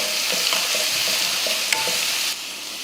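Grated chayote stirred into onions frying with turmeric in a pan, a steady close sizzle broken by light clinks and scrapes of a spoon, with no talking.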